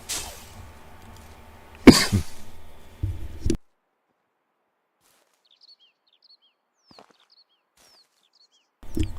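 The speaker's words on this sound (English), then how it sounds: "I try not to cough in your guys' ears." A person coughs twice into a close microphone, with a harsh burst and a shorter follow-up, then near silence with faint bird chirps and a brief noise at the end.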